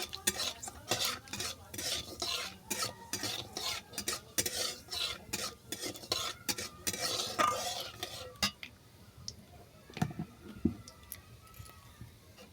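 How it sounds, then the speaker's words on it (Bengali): Black cumin seeds fry in a pan under rhythmic spoon stirring, with repeated close metal scrapes and clinks over a light sizzle. The stirring eases off near the end, leaving a few scattered taps. "কালো জিরেটা ভালো করে ভেজে নিচ্ছি"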